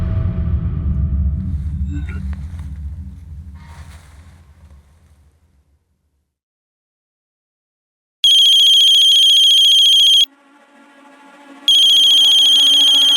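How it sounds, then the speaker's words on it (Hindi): A mobile phone ringing from an unknown number: after fading background noise and a few seconds of quiet, a loud electronic ringtone sounds in two long bursts separated by a short pause. "अननोन नंबर से फोन है सर।"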